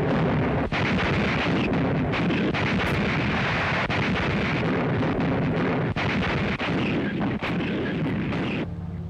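Coastal and anti-aircraft guns firing at night, a dense, continuous roar of heavy booming blasts and rumble with sharper reports standing out now and then, loud throughout.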